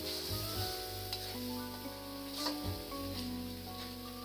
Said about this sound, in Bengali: এবার ভালো করে মশলাগুলোকে আমি কষিয়ে নেব।